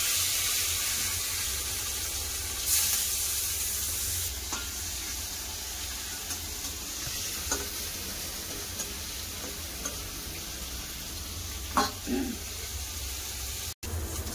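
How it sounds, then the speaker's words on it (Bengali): Pieces of rohu fish frying in hot oil in a pan, giving a soft, steady hiss and crackle at close range, with a few faint clicks and knocks and no talk. "মাছ ভালো করে ভেজে নিয়েছি, আর তুলে নেবো।"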